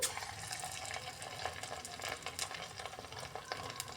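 Hot oil heating in a pan before urad dal vada batter goes in, giving a steady, dense sizzle and crackle with frequent small pops throughout, fairly close and continuous, no voices.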